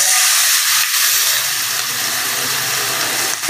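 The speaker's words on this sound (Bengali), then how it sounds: "সব উপকরণ একসাথে ভেজে নেব।" Loud, constant sizzling hiss of chopped onions frying in hot oil with black cumin, close up and steady throughout, with no talking.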